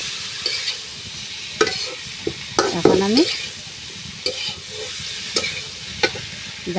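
Fish curry masala is stirred in a hot frying pan, with spoon scrapes and clanks over a constant sizzle. A brief spoken phrase cuts in midway.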